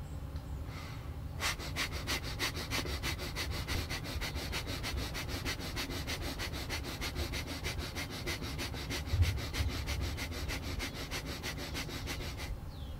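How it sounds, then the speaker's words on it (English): Rapid, rhythmic nostril breathing in the yogic Breath of Fire style, with navel pumping, forms a fast, even train of sharp sniffing exhalations, about three per second, close and steady for over ten seconds. "It's nostril breathing with navel pumping."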